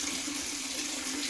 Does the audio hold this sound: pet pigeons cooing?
no